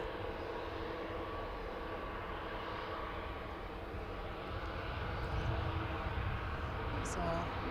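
A Jet2 Airbus A321neo at Manchester Airport produces a steady, broad jet-engine roar that holds evenly and swells slightly toward the end.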